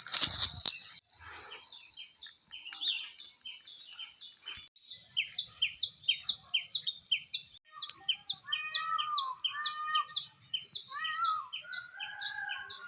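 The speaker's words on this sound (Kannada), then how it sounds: "ಸೌಂಡ್ ಕೇಳಿಸ್ತಿದೆಯಾ? ಅದು ಪೀಕಾಕ್ ಅಂದರೆ ನವಿಲು ಸೌಂಡು." Peacock calls near a rural home, loud repeated bright calls in a steady rhythm over several seconds, mixed with other chirping birds and a brief rustle at the start, no talk.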